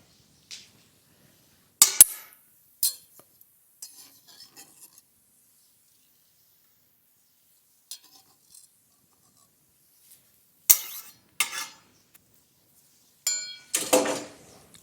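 A spoon clinking and scraping in a glass bowl of pineapple habanero salsa with lime juice, a handful of sharp, scattered taps and clatters separated by long quiet gaps.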